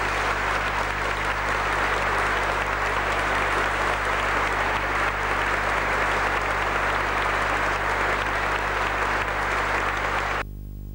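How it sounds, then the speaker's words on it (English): Church congregation applauding their new dean at his installation, sustained even clapping from a large crowd that continues steadily for about ten seconds before cutting off abruptly, over a low electrical hum. "the congregation greeted their new dean with applause"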